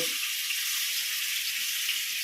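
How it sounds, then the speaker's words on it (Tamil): Mullet fish coated in salt, chili powder and turmeric fries in hot oil, making a steady, loud, close hiss of sizzling that holds without a break. "காய்கிட்ட எண்ணெய் காய்ச்சா மீன் போட்டுடலாம் இந்த மீன் போடுறேன்ப்பா"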